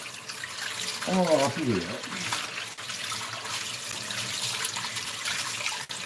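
Water drains from a kitchen sink after used curing salt for duck breast and country sausage is tipped away, a steady rushing wash running the whole time with a voice speaking briefly near the start.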